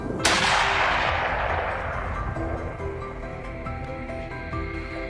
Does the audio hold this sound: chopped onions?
no